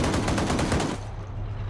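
Rapid automatic gunfire from the video game Arma 3 rattles in a dense burst for about a second, then cuts off, leaving a low rumbling background.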